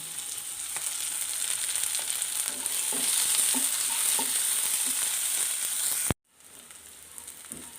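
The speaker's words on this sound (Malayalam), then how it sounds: "ദെൻ ആഡ് 1 ടൊമാറ്റോ നന്നായി വഴറ്റാം" A tomato sautés in a pan for macaroni, giving a loud continuous sizzle with faint stirring scrapes that cuts off abruptly, then resumes more quietly.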